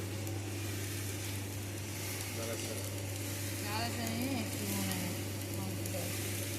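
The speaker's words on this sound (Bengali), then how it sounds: "দেশি চাল ভাজছে, তারপরে ছোলা ভাজবো।" Desi rice roasting in a roaster machine, a constant close sizzle and rustle over a steady low machine hum, with faint voices in the background.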